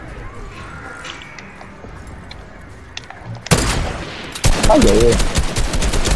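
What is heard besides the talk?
gunfire from Fortnite video game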